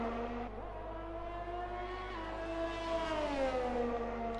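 Ferrari race car in a sim racing game at Abu Dhabi, a high steady engine whine rising and dipping through gear changes, heard alone and fairly faint.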